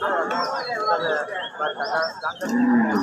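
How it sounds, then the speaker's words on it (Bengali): Cattle low nearby at a cattle gathering in Dharmapasha, Bangladesh, a deep drawn-out moo rising near the end, amid a busy outdoor mix of chirping birds and indistinct background voices. "এই যে দেখেন এখানে এই গরু গরু গরুগুলো বিভিন্ন জেলায় যাবে"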